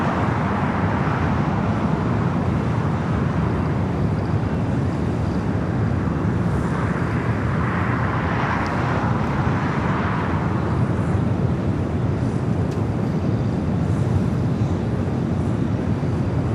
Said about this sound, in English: The flight coming up from Tokyo, Haneda, flight 126, 787-9 Dreamliner.